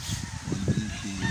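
A chicken on a Philippine island, offered for sale by the kilo, clucks in short low bursts close by, steady and moderately loud throughout.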